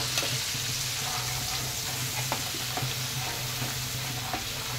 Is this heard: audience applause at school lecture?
no